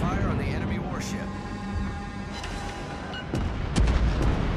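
Naval guns firing at an enemy warship during a sea battle game, with deep booms and sharp cracks over a rumbling battle din while a player talks.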